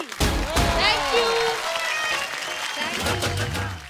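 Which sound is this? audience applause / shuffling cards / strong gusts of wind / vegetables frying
audience applause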